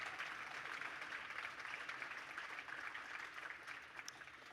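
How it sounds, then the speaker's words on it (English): Steady, fairly quiet applause from an audience at a Bloomsday reading event at the Rosenbach Museum and Library, a continuous wash of clapping heard from a distance for several seconds with no talking. "Give them a huge round of applause."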